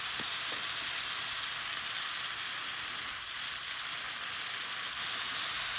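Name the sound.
prawns sautéing in a pan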